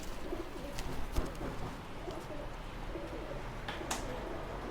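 Pigeons coo softly at a pigeon shop in Delhi, low murmuring calls repeating under a noisy busy background with occasional clicks and rustles, faint and somewhat distant.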